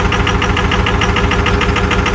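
A Ford 6.0 Powerstroke diesel V8 in a ZF6-equipped truck, left standing a long time and freshly treated with Archoil, idles close by with a steady, loud, rhythmic clatter and a deep rumble, and no one speaks.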